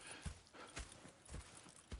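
Horse hooves clip-clop at a steady walking pace in a Western game setting, with four distinct low thuds spaced about half a second apart, moderately quiet and heard alone.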